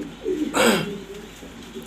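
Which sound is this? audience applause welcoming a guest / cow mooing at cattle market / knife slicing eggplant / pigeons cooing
pigeons cooing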